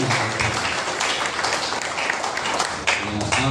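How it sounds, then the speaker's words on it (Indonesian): Audience at a community forum gathering in a Pluit sub-district office applauding steadily, a dense wash of many hands clapping fairly close, with a few voices murmuring underneath. "Nah, tepuk tangan juga."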